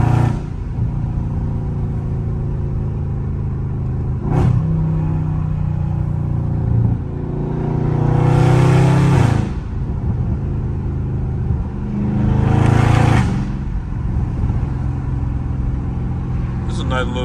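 Loud Dodge Scat Pack rumbling in traffic, with a steady low exhaust drone and two rising revving swells as it downshifts, plus a couple of sharp thumps; no talk is heard.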